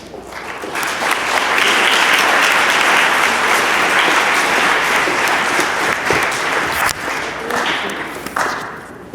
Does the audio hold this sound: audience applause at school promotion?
yes